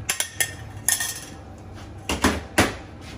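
Goulash being served into a bowl in a home kitchen, with a series of sharp ceramic and metal clinks and scrapes, a quick cluster at first, then a few spaced knocks, close and clear with no talking.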